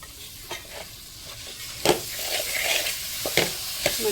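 Wild karadu greens dropped into a hot pan and stirred, a soft frying sizzle rising as the leaves hit the oil, broken by several clear scrapes and taps of the spatula.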